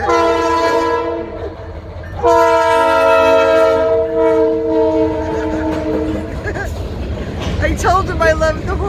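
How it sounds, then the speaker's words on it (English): A New England Central Railroad freight train horn blares in long, loud chords, pausing once and then sounding again, over rumbling train noise as the train nears. "I told him I love the horn salutes"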